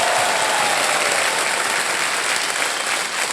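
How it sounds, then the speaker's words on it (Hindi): A studio audience on the KBC game show breaks into steady, loud, continuous applause that fills the room throughout with no pause. "जोरदार तालियां बज जाए इनके लिए।"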